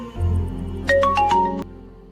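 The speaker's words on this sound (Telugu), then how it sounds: "మా ఆయన ఫోన్ చెప్తుండు." A mobile phone rings with a short, bright melodic phrase of a few rising and falling tones, lasting under a second over a low hum, close and fairly loud.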